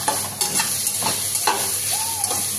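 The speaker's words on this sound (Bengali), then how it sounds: "গাজরটা একটু বাকি আছে, নাড়তে থাকতে, হাই ফ্লেমে নাড়তে হবে।" Carrot, capsicum and onion stir-fried on high flame in a kadai, with a steady sizzle broken by several sharp scrapes and clanks of the spatula against the pan, and no talk.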